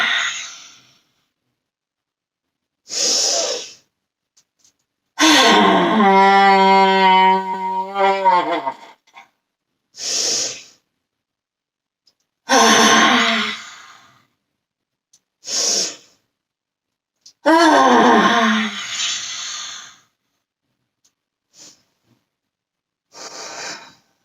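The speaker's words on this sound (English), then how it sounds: "breathe in." Deep breathing during a seated forward-bend stretch: slow, loud, close inhales and exhales come in separate breaths with silent pauses between them, some with a voiced sighing edge.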